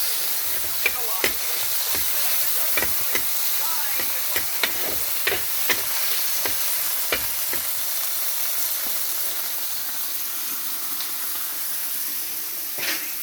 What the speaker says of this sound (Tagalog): Tapos lalagay na natin itong kamatis. Yan. And then mix.